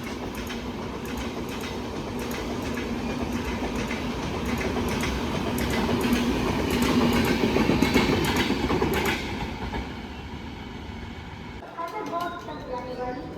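The Alappuzha–Dhanbad Junction Express, train no. 13352, rolls past near Ernakulam with rhythmic clickety-clack of wheels over rail joints, swelling louder then fading, while a person talks over it.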